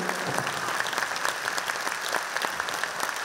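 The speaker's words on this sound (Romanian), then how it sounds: "vreau, odată cu mine, să-l aplaudăm, vă rog" Audience applause at a folk concert and show for Dragobete and Mărțișor, a dense, steady clapping from a large crowd that holds at full strength throughout.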